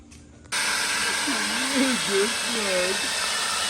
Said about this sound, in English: She's helping me blow my patio off.